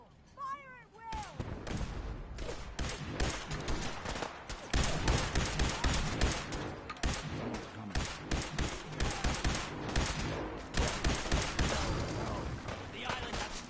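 Sustained heavy gunfire in the video game Fallout 4 as defenders fire at attackers coming out of fog, loud dense volleys and booming shots continuing almost without pause, with shouting voices mixed in.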